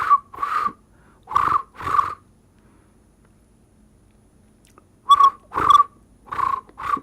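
A person whistles with a rolled tongue to imitate a cricket, giving short trilled bursts in two groups separated by a quiet pause, close and fairly loud.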